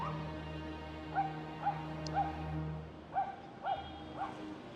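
Dogs bark and yip in a walkable city neighbourhood of Medellín, about six short calls spaced unevenly at moderate distance over a low hum of traffic.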